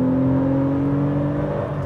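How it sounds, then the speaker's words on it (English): A road-legal Porsche 993 fitted with a Super Cup racing engine drives past with a steady, loud, buzzy engine drone holding a sustained tone, heard alone with no voices. "opportunity of driving a 993 with a cup engine"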